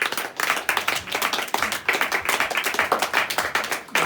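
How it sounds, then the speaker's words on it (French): An audience at a youth meeting in Martinique gives a burst of lively hand clapping, dense and continuous for a few seconds, heard close and alone. "on peut les applaudir."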